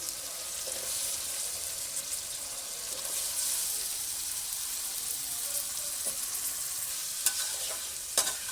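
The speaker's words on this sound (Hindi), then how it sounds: "आलू को हम 5 मिनट तक अच्छी तरह से भूनेंगे।" About 700 grams of potatoes fry in oil in a pot for an aloo pulao, giving a steady close-up sizzle with occasional scraping clicks from stirring.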